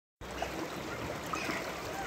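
A mountain stream pours steadily inside a Kashmir cave, starting abruptly and then rushing on in an even, close wash of water, with faint murmurs in the background.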